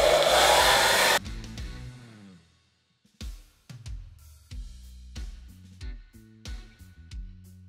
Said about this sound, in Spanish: Con la secadora vamos a secar nuestro cabello de atrás hacia adelante